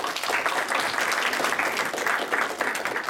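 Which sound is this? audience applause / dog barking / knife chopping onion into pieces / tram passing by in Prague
audience applause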